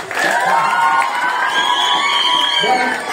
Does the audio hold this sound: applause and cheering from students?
yes